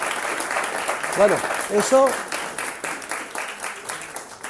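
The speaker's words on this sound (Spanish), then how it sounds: "un aplauso para Víctor" A university class applauds a visitor named Víctor, modest clapping that tapers off while someone speaks briefly over it.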